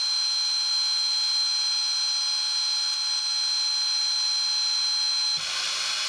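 Machining 4140 steel for a milling-machine profile cutter tool, heard as a steady, loud, continuous tonal whine that runs unbroken before shifting abruptly near the end.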